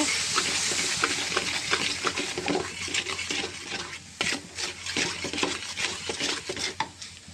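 Spices sautéed with salt in a pan, a steady close sizzle broken by frequent scraping stirs and clinks of the spoon against the pan, continuous throughout with no voices.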